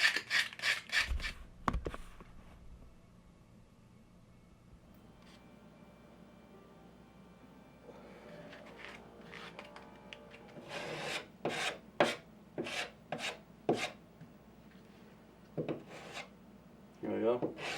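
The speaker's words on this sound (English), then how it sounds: "Taking off the burr" A file rasps across a burr on a Donkey Kong arcade cabinet under restoration, bursts of short scraping strokes in quick rhythmic runs separated by quiet pauses, close and fairly loud.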